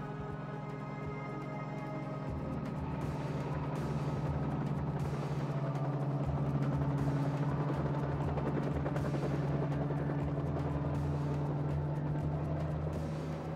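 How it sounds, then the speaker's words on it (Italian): A helicopter drones steadily in the mountains while carrying a group of skiers up to a high gully, a continuous low rotor and engine roar that swells slightly midway and holds at a fairly distant, even level. "Una volta che l'elicottero ha trasferito il gruppo di sciatori in cima al primo canalone"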